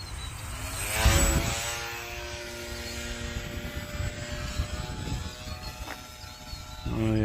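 A Hawk King RC airplane flying at about half throttle gives a steady propeller drone with shifting pitch as it passes, loudest near the start and swelling again at the end, with wind and faint outdoor noise underneath.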